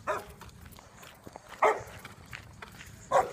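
A dog barks three times, single sharp woofs spaced more than a second apart, at moderate distance over a faint room background.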